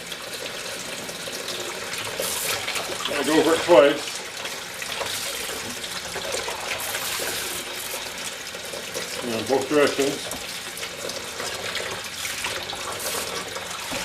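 Tap water forced through the charcoal filter of a CatMate cat fountain in a sink, a steady running splash with two louder gushing swells, while someone talks over it.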